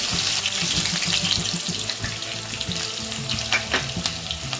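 Steady, loud sizzling of mustard seeds, cumin and lentils frying in hot oil for poha, with crackles and pops throughout and occasional clinks underneath.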